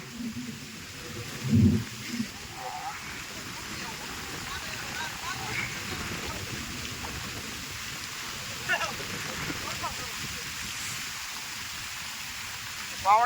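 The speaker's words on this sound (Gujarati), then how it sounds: "કડાકા ભડાકા સાથે વરસાદ ચાલુ થઈ ગયો છે" Rain with thunder falls steadily on a farm during groundnut sowing in a soft, even hiss, with a few louder thumps and brief faint sounds mixed in now and then.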